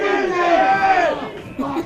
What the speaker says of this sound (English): you heard the crowd from the grandstand, the Hoppers fans, Scotty.